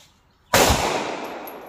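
.380 Cor-Bon jacketed hollow point high-velocity round fired from a short-barrel pistol at a range: a single sharp, loud report after a brief quiet, with a long decaying ring.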